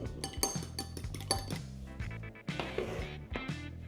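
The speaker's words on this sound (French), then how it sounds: "je viens casser un œuf dans un bol et le battre pour faire ma dorure" An egg is cracked into a bowl and beaten for a glaze on sourdough brioche, heard as quick clinks and taps of utensil on bowl in bursts, close and fairly quiet, with no voices.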